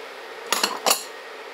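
Spoon scraping and clinking against a pot while stirring cayenne pepper and salt into a thickening cheese sauce for potatoes au gratin, two short bright metallic bursts over quiet room tone.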